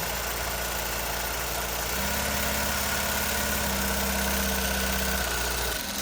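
Juki LZ-2284 single-needle lockstitch zigzag industrial sewing machine running with a direct-drive motor, giving a steady continuous mechanical hum and whir that shifts pitch slightly as the speed changes, close and alone.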